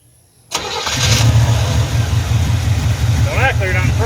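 A Chevrolet 305 V8 fitted in an Oldsmobile cranks and catches after a short silence, then runs at a loud, rough, steady idle close by, with a voice heard briefly near the end.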